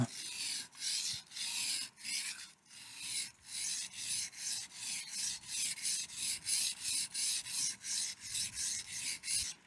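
Knife blade sharpened on a sharpening stone, a rhythmic series of about twenty raspy back-and-forth strokes, close and clear, with short pauses between.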